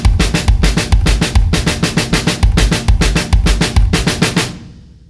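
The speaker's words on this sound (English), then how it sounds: "you're going to change every third note to a kick drum" A linear drum fill for beginners: single strokes alternate between snare and kick drum, with every third note moved to the kick, in a fast, even stream played close and loud before the last hits ring out.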